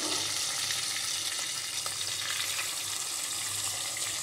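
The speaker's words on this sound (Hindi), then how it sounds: "एक तरफ फ्राई हो गई है फिश, अभी इसे पलट देते हैं" Hilsa fish frying in oil in a pan, turned over partway, giving a steady close sizzle and crackle with faint low clatter of the pan throughout, no talking.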